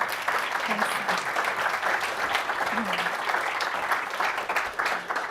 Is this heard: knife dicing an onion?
no